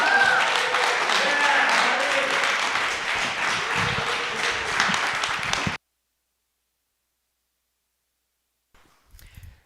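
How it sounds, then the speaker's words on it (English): A crowd claps in sustained applause for nearly six seconds, then the sound cuts off abruptly into silence, with a faint rustle near the end. "So can you guys give Chance a round of applause?"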